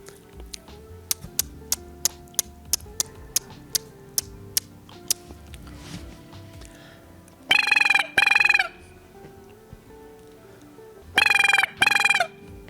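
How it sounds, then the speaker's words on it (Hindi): Mobile phone ringtone rings out after a number is dialed, heard as two loud warbling bursts following a series of sharp ticking tones from the dialing, with no talk. "आज इस बंदे ने अपने घर की बेल लगवाई हुई है, मोबाइल के जो ट्यून उसकी"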